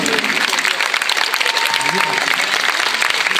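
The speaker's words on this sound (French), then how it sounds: "Je pense qu'on peut applaudir" An audience claps at a body painting presentation, giving dense, continuous applause from start to finish with some voices mixed into the crowd noise.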